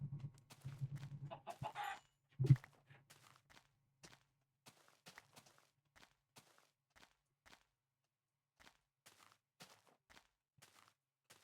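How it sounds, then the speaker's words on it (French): A Minecraft chicken gives a couple of loud clucks near the start, followed by a long run of soft, evenly spaced footstep-like ticks. "Encore une poule."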